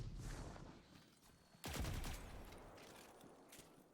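Weapon fire from the Seventh Seraph gun in Destiny 2, a burst of rapid shots that starts abruptly midway and fades out, heard alone without talk.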